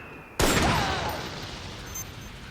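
A loud burst of gunfire in Metal Gear Solid 4 opens suddenly after a quiet moment, then trails off into a long reverberant decay with scattered faint shots behind.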